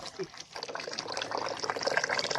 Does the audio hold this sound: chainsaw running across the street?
no